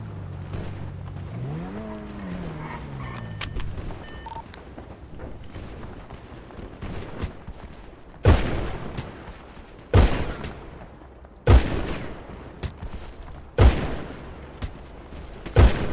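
Gunfire rings out in GTA V on a Familie city roleplay server, where a passing vehicle's engine sweep gives way to several loud, sharp shots spaced a second or two apart, each with a brief echoing tail.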